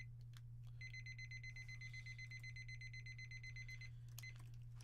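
Timer alarm going off indoors with a steady, rapid electronic beeping for about three seconds, close and clear over a constant low hum, with faint clicks before and after.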